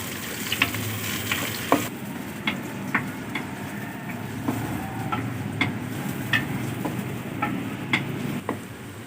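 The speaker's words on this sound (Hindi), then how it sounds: "2 अदद प्याज ऐड करेंगे बारीक कटे हुए। प्याजों को हल्का सा ब्राउन कर लेंगे।" Finely chopped onions fry in hot oil in a kadai, a steady close sizzle and crackle broken by light stirring clicks and scrapes throughout.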